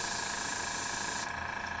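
An airbrush sprays water in a steady, close hiss of fine mist that cuts off sharply near the end and leaves a softer hiss.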